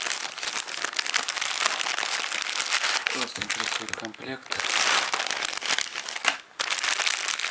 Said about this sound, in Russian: Пупырчатый пакет такой хороший.